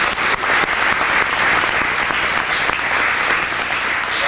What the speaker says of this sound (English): Dr. Patricia Newton, give her a round of applause.